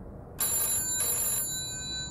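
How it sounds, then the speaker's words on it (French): A telephone bell rings in two loud, bright bursts, the second following shortly after the first, alone with no talk, used as an audiobook sound effect. "Le téléphone se remit à sonner chez Vasseler."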